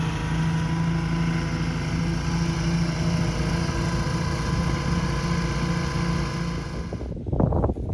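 A new tractor's engine idles steadily in an open field, a close, constant low rumble with layered harmonic hum that cuts off near the end, followed by a brief rustle.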